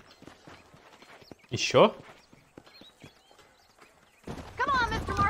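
Horse hooves clip-clop in Red Dead Redemption, light clopping through most of the stretch, with a louder burst in the middle and voices speaking near the end.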